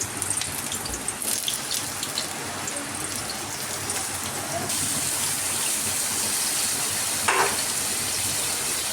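Potato and pointed gourd pieces fry in hot oil on high flame, a loud, close, rain-like sizzle that runs throughout, briefly flaring as more pieces drop in.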